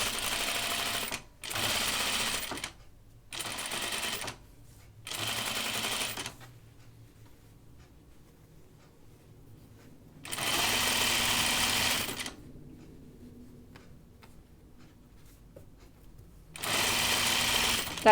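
A sewing machine stitches a caftan dress neckline in loud, steady bursts of a few seconds each, separated by quiet pauses where the fabric is turned at corners.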